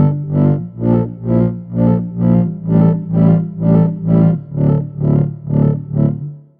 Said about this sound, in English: you still get the high end of the synth coming through, because that's what you're actually looking for in the reverb.